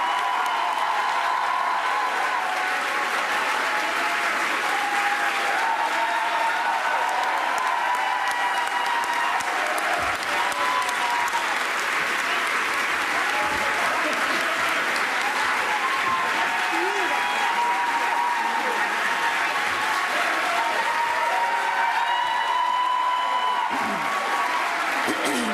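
Sustained applause from a large audience welcoming Hillary Rodham Clinton, steady dense clapping with a few cheers, filling the whole stretch without a break.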